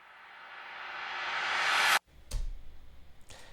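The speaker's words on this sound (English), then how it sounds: "the reverb that I added to a clap, I just took that reverb, I bounced it, and then I reversed it" A reversed reverb tail from a clap swells steadily for two seconds, then cuts off abruptly, followed by a couple of sharp percussive hits.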